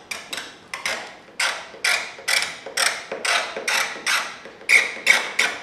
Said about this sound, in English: use the sharp needle side here and scratch